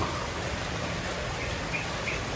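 Steady, dense typhoon rain in the Philippines hisses without a break in the early morning, a constant wash of noise with faint bird calls and insect chirps in the background.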